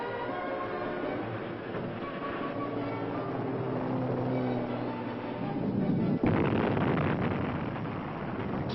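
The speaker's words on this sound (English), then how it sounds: "Explosions rocked the canyon almost daily for 2 years" Deep rumbling booms from rock blasting in a canyon during Hoover Dam construction roll on and on, with a heavier explosive burst partway through, continuous and muffled.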